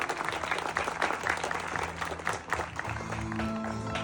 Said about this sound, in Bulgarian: Аплодисменти за младоженеца.